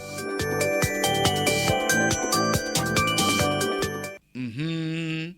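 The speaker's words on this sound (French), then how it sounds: "Le téléphone sonne" A telephone ringtone plays as a loud, steady electronic melody of repeated tonal notes, cutting off abruptly near the end before a brief rising tone follows, with no talk over it.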